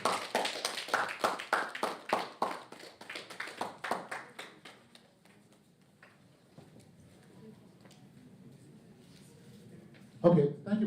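Attendees at a trading masterclass give a brief round of applause, rhythmic claps that fade within a few seconds into quiet room noise before a voice returns.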